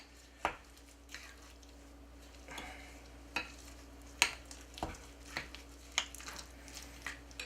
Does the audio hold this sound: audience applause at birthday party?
no